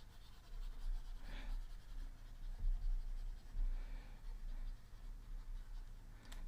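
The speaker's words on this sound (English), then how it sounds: "let me erase this" Erasing on a board makes a soft, scratchy rubbing in irregular strokes, faint and close over a low background rumble.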